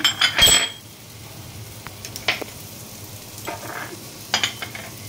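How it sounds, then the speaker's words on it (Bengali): Spoon stirring sugar into sour yogurt in a bowl, a few sharp clinks against the dish at the start, then soft intermittent scraping and taps, close and without talk. "চিনিটা আমি এর সঙ্গে মিশিয়ে নেব, দিয়ে একটু ঘেটে নিচ্ছি"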